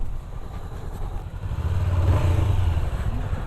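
A BMW G310 GS single-cylinder trail motorcycle rides along, its engine a low, steady thrum that swells slightly in the second half, heard alone without talk.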